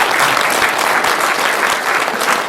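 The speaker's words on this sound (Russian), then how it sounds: "Давайте похлопаем друг друга." Applause from the audience at a school's 60th anniversary celebration, steady dense clapping filling the hall throughout without a break.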